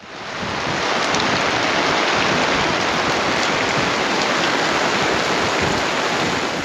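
Steady, heavy rain pours down on tropical Moreton Island, a dense unbroken hiss filling the air at constant loudness with no voices.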